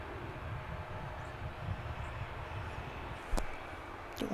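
An Emirates airliner passes at DFW Airport as a faint, distant, steady jet roar with low rumble, and a couple of brief sharp clicks near the end.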